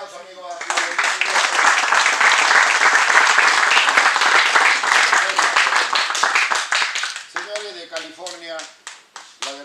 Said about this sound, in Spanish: Voy a darle un fuerte aplauso